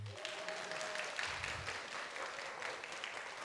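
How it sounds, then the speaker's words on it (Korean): A congregation claps together during a Sunday afternoon praise service at a Korean church, a steady, moderately loud patter of hands lasting several seconds with a low rumble early on. "박수 한번 쳐줘요"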